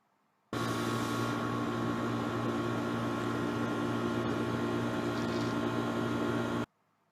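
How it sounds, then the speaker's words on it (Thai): A faulty air conditioner gives a steady, loud mechanical hum with a broad noisy roar and low rattling tones, starting abruptly, droning for about six seconds, then cutting off. "ตัวอย่างเสียงนี้นะครับเป็นเสียงของ เครื่องปรับอากาศที่ชำรุดนะครับ"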